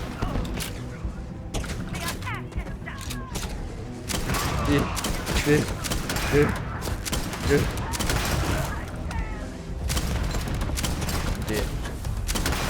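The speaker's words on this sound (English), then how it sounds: "Grenade launcher, yeah!" Sustained explosive fire and mechanical clatter from a grenade launcher in Starfield, dense and loud throughout, with a brief spoken word over the barrage.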